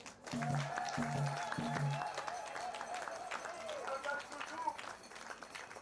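A crowd at an outdoor political march and rally applauds, steady clapping and crowd noise running under a prominent amplified voice that rises and falls across the whole stretch.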